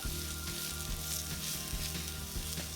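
Keto hash browns frying in a pan, with a steady, dense sizzle that holds at an even loudness throughout and has no talking over it.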